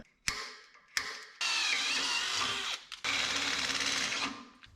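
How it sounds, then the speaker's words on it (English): A power drill boring a 3/8 inch hole during a front air-bag suspension install on a 1963 IH Loadstar truck: two short bursts, then two sustained close whines with a brief pause between. "Drill you a 3/8 hole."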